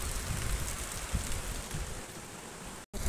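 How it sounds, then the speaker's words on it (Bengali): Rain falls outdoors, giving a soft, continuous patter and hiss at low volume that cuts out briefly near the end, with no one speaking. "বৃষ্টি পড়ছে বলে।"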